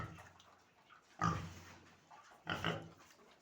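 An animal grunts while eating, making two short, close, low grunts about a second apart in an otherwise quiet setting.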